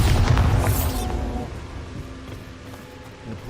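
A Bombarda spell explosion in Hogwarts Legacy lands as a loud, deep boom with a bright burst at the start, then rumbles and fades into a low tail.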